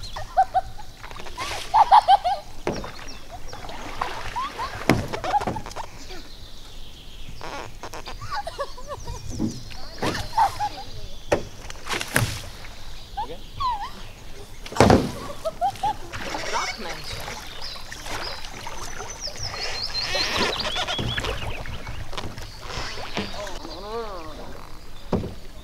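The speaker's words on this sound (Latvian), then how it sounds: "Man ļoti patīk braukt ar laivām" Rowing boats move across the water on a summer outing, with oars dipping and splashing in irregular strokes up close, mixed with voices and occasional birdsong.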